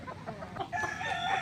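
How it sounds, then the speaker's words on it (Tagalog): A hen, a backyard laying chicken with a growth on its foot and cracked leg scales, clucks repeatedly at close range, its calls rising into louder, drawn-out tones toward the end. "Ayan po siya mga kaibigan, yung ating inahin."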